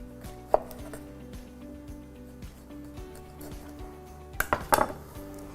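Sharp knife chopping fresh herbs on a cutting board for Turkish tabbouleh, heard as a series of soft, close taps with a louder burst of quick cuts near the end, alongside faint kitchen clatter.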